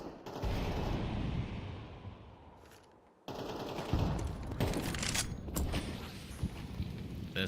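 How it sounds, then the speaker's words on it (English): Gunfire in a tactical shooter game match comes as rapid bursts and crackling volleys over a dense, loud background, with a short dip to quiet partway through. "Kapoya narrowly escapes a headshot there from Coco"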